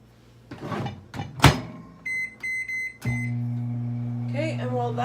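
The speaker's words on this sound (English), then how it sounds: "I'm going to pop this in the microwave for 6 minutes" A microwave oven heating meatloaf: door handling and thumps, a run of keypad beeps, then a steady loud hum as it starts running, with a voice speaking faintly over the start.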